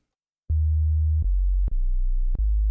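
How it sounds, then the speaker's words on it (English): Synthesizer sine wave bass tone for drum and bass, playing a series of sustained deep pure notes that step lower in pitch, each starting with a soft click, clean and alone with no other sounds. "if you're going for a bass sound and you want a nice bit of weight, usually a sine wave is the way to go."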